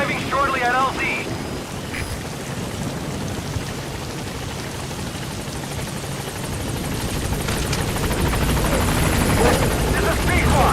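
The Pequod helicopter in Metal Gear Solid V arrives at a landing zone, its steady loud rotor roar running throughout alongside rain-like hiss, while a radio voice talks over it.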